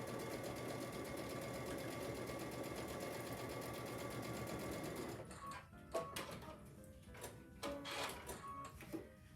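A sewing machine runs a regular quarter-inch quilt seam in a steady, even drone for about five seconds, then stops, leaving scattered clicks and fabric handling.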